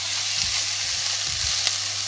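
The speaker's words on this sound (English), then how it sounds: "You can see the onions are frying off nicely." Onions frying in a pan for a lamb dopiaza, a steady close sizzle with a few soft stirring scrapes, loud and continuous with no talk.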